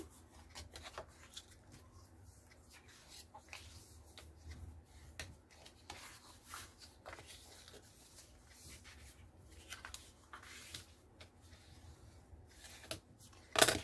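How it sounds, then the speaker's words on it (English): Quick, soft rubbing and scraping of a burnishing tool pressed over a paper pocket for a Christmas mini album, faint irregular strokes close by, ending in a sharp louder tap. "You're going to burnish that quickly."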